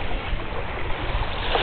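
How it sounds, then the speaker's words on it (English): Small waves lap steadily at a lake shore in a park, a continuous close wash of water with no speech. "Little waves."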